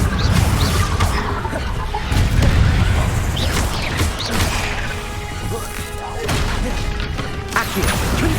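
Confringo spell blasts in Hogwarts Legacy on PS5, a string of loud crashing explosions and whacking impacts repeating every second or two over a busy, rumbling combat din, close and forceful.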